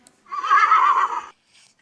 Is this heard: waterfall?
no